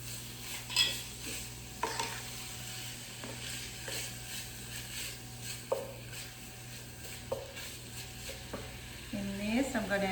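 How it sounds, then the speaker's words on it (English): Finely chopped garlic sizzling in a pan for potato moussaka, with repeated scraping and clacking strokes of a utensil stirring it over a constant low hum. "Right now I'm going to put 2 cloves of garlic, have them chopped very fine here."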